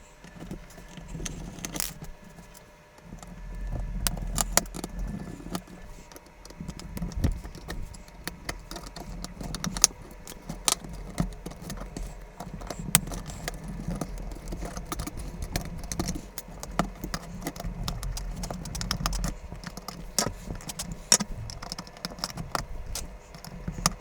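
Small screws being worked out of a cheap £20 laptop's plastic case, with faint repeated metallic clicks and light taps scattered over a low background rumble for the whole stretch, no talking.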